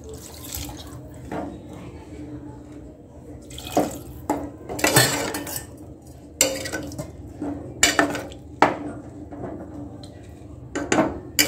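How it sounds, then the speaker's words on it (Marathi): Water pours into a metal pan of bitter gourd curry in several short bursts, mixed with clinks and scrapes of cookware, close by. "आता ह्याच्यामध्ये मी पाणी टाकते।"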